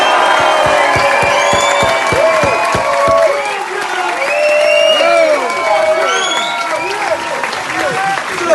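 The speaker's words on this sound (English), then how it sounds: "Clap, cheer and scream for George Haddon-Hartle!" A comedy club audience at the Glee Club claps, cheers and screams loudly, with dense, sustained applause full of rising whoops and shouts that carries through to the end.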